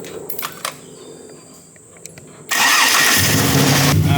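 A Barra-engined C1100 International pickup truck cranks and fires, its engine catching after about two and a half seconds of quiet clicks and handling, then settling into a loud, steady, close idle with no one speaking.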